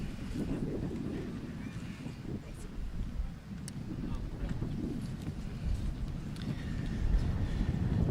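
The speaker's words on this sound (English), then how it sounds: "It's windy." Steady wind buffets the microphone at an outdoor high school graduation ceremony, a rough low rumble that continues throughout with faint distant voices underneath.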